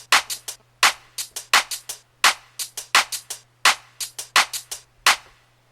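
A drum and bass beat sequenced on an Akai MPC One: sharp, punchy drum hits in a fast, syncopated pattern over a steady low hum, alone and without talk.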